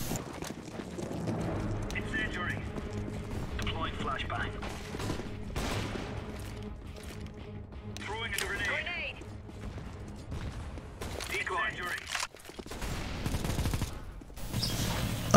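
Bursts of gunfire from the game CSGO crackle in several short volleys over steady in-game noise, with a player talking throughout.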